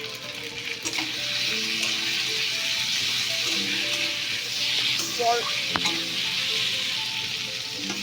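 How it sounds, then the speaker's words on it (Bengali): Ginger paste and two medium tomatoes fry in a pan as a masala, giving a steady, close sizzle with occasional stirring scrapes, no talk. "আমি এটা একটু ভেজে নেব মশলাটা।"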